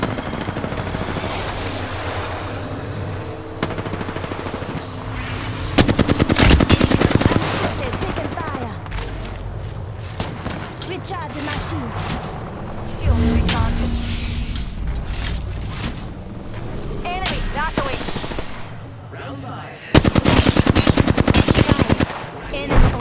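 Apex Legends gunfire, repeated bursts of rapid automatic shots and single sharp cracks over a steady game hum, loud and near, with several heavier blasts and some in-game voice chatter in places.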